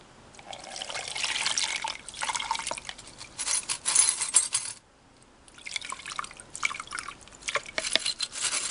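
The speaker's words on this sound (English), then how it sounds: "just pour some fresh water over them" Fresh water is poured over small sewing-machine springs and screws from a Singer 15-91 bobbin winder, giving irregular splashing and trickling bursts with a brief pause midway.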